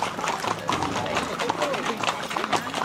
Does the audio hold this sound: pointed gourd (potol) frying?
no